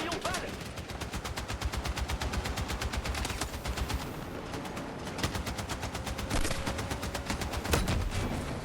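Battlefield 6 gunfire rattles in long, rapid automatic bursts, loud and continuous throughout, with brief pauses between strings of shots and faint voices in the background.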